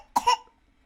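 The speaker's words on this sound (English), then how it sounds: "baby's coughing here" A baby coughs once up close: a short, sharp double burst that fades within about half a second, with quiet around it.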